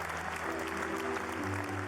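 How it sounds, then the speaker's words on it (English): A stadium crowd on Wimbledon's centre court applauds and cheers loudly and steadily as Federer and Victor Hanescu walk out, with a broad wash of clapping and voices filling the space throughout. "Federer and his opponent Victor Hanescu enter the court, and an enthusiastic cheer spreads throughout the stadium"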